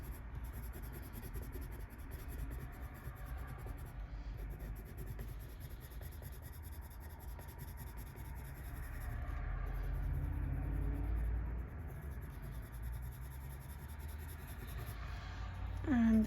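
Colouring pencils rubbing and scratching across paper in close, steady strokes, a continuous soft scraping texture with a low background hum and no talking.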